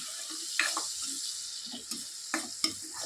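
Salt being stirred into a ridge gourd and dried prawn curry in a pan, with a soft continuous sizzle and a few sharper scrapes and clinks of the spoon scattered across the stir.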